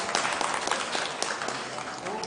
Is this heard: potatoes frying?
no